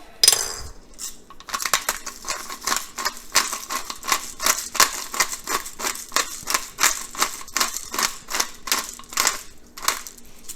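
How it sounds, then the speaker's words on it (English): A pepper grinder cranks black pepper into a pot of chicken and dumplings, making a rapid, regular series of close, crisp crunching clicks that keeps going for several seconds without talk. "And maybe a few grounds of some black pepper."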